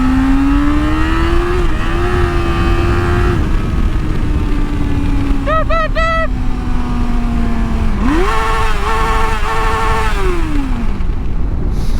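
A loud inline motorcycle engine runs close by with a steady droning tone, climbing in pitch with a rev early on and surging again in a strong, sustained rev before dropping back down.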